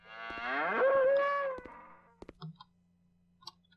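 A cartoonish cow in a video game lets out one loud, drawn-out moo, followed by a few faint clicks and soft game sounds.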